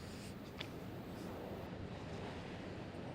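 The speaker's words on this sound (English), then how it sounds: "This is a raging river, as you would expect." The raging St. Joseph River runs at record flood levels in downtown Mishawaka, making a loud, steady broadband rush of water with wind buffeting the microphone throughout.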